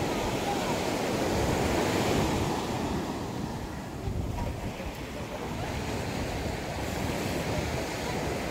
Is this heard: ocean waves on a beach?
yes